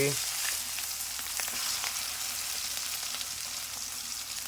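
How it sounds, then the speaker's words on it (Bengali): Chilli, panch phoron and chopped onion frying in a little oil produce a steady, hissing sizzle that holds at an even level. "লঙ্কার পাঁচ ফোড়ন দিয়ে দেবো পেঁয়াজ কুচি"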